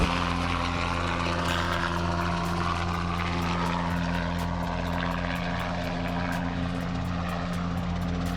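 An ultralight Safari kit helicopter flies with a loud, steady engine drone and rapid rotor chopping, continuous and close throughout, with no voices.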